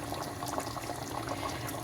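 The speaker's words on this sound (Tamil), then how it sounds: "கொஞ்சம் தண்ணி ஊற்றி அப்புறம் கொதிக்க விட்டு இப்போ மீனை போட்டுட்ருக்கேன்" A pot of fish curry bubbles and simmers steadily, with a soft continuous gurgle of liquid close by.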